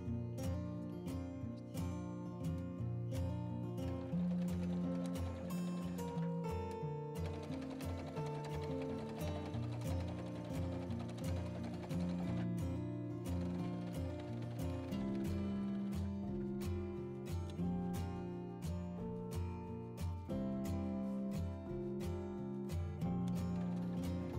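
A sewing machine topstitches a seam on trousers, its rapid mechanical ticking and whirring running steadily and evenly up close, with brief pauses and no voice.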